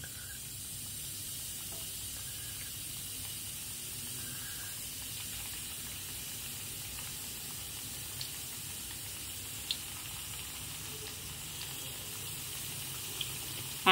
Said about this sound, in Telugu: పకోడీ వేస్తున్నా.